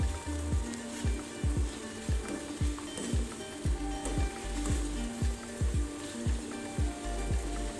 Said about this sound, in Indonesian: Setelah mendidih, kita matikan kompornya.